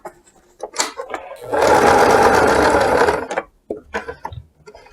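A sewing machine stitches a woven shoulder bag in one loud, close burst of rapid needle whirring, framed by small clicks and handling knocks before and after.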